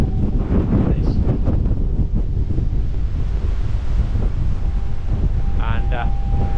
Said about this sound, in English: Look at the full force of the wind around this corner.